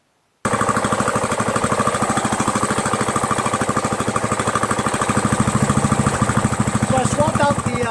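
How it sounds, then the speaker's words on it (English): A Troy-Bilt Super Bronco lawn tractor's small engine, freshly fitted with a swapped carburetor, idles on lowest idle with a fast, even, loud chugging putter that runs steadily after a brief silence. "I swapped out the Mower carburetor. This is on lowest idle."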